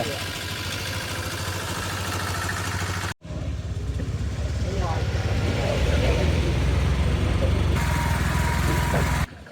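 An auto rickshaw's small engine idles and rumbles steadily close by, briefly cut off, then running on with a rattling, clattering tone.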